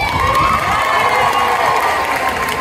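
A festival crowd at the Madin' Japan Festival 2023 cheers and applauds for cosplayers, a loud continuous roar of shouts and clapping that stays dense throughout with no clear speech.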